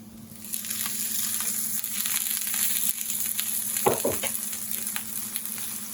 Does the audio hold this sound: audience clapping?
no